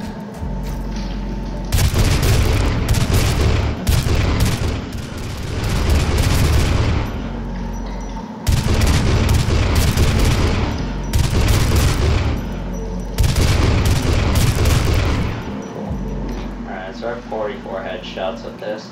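Gunfire in the video game Doom: three loud bursts of rapid shots and booms, each lasting about two to three seconds and separated by short gaps of quieter background game sound.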